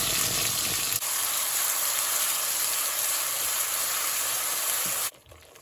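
A puree of onion, garlic and thyme cooks in hot oil in a pot, giving a steady, dense sizzle close by that runs for about five seconds and then cuts off abruptly, with no talk.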